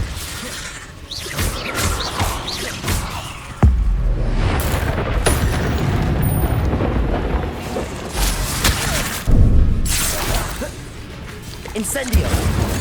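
Depulso spell cast in Hogwarts Legacy combat: sudden forceful thuds and crashing impacts with whooshes and clattering debris, dense and loud, mixed over steady game noise and voices.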